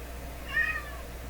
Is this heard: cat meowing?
yes